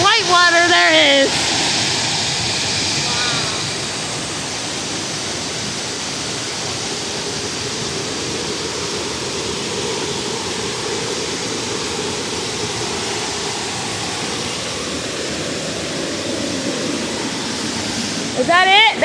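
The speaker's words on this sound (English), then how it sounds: "Look how much white water there is!" Powerful white water rushes along a trail, a loud continuous roar near at hand, with people's voices heard briefly at the start and again at the end.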